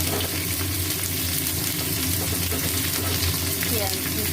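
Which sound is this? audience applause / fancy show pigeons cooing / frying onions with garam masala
frying onions with garam masala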